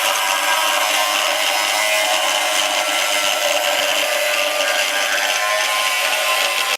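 Power tool cutting through a plastic car bumper lip, a loud, steady, harsh grinding rasp running unbroken until it stops abruptly at the end.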